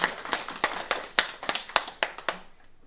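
A church congregation at a Sunday service claps in a short burst of about a dozen sharp, fairly even claps that fade out near the end.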